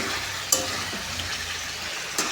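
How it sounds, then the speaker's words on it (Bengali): Chicken leg pieces frying in a pan for chicken curry: a steady sizzle throughout, with a couple of sharp scrapes as a utensil stirs and turns the meat. "এইখানে ভালো করে চিকেনটা ঢাকা দিয়ে কষে নিয়ে একদম ভালো করে লাল লাল করে কষাবো"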